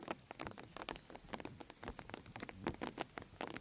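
Fine, light rain comes down on a calm late afternoon at Sítio Riacho Fundo, a farm, as a quiet, continuous patter of scattered drops tapping nearby surfaces.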